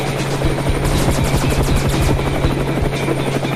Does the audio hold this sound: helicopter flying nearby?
yes